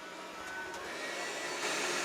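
A Dreame X40 Ultra robot vacuum runs steadily while cleaning across hard floor and carpet, a constant close whirring hum with no talking.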